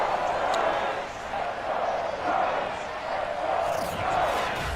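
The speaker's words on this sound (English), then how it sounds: "This crowd is ready as their guys get set to match up between the Chicago Bears and the New York Giants." A stadium crowd in the Madden 22 football game, Chicago Bears versus New York Giants, keeps up a steady roar of cheering throughout, with a broadcast announcer's voice over it.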